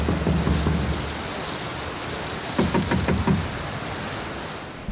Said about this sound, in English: Outside, the persistent typhoon was raging.